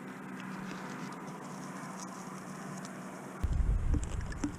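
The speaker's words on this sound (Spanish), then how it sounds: "mirad cómo llueve. Madre mía, cómo llueve." Heavy rain pouring outdoors while people eat under it near passing trains, a steady broadband patter that swells into louder, closer drumming near the end, with no talk.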